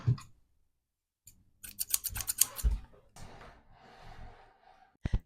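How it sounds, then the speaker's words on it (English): Scissors snip several times in quick succession close by, sharp crisp cuts clustered together, with soft breathing and a few quiet handling sounds around them in a calm room. "let's get some scissors"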